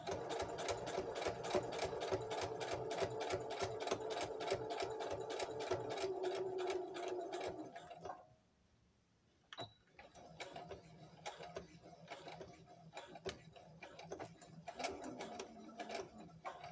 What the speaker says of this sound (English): push it on the machine. Let machine to take the fabric by herself.